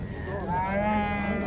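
A cow at a livestock market gives a single drawn-out moo that rises and falls, close and fairly loud over low background market noise.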